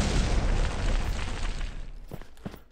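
An airstrike blast in Red Crucible 2 roars as a loud, broad rumbling boom that fills the first two seconds, then decays into a few sharp trailing pops and cracks.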